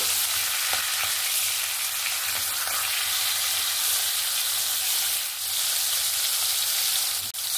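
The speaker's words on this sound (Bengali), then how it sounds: "অপর সাইডটাও ভেজে নিয়েছি, হালকা করে ভাজা হয়ে গেছে।" Hilsa fish fillets fry in mustard oil for a Bengali mustard hilsa dish, giving a steady, close broadband sizzle that holds evenly throughout, with a couple of faint clicks and no talking.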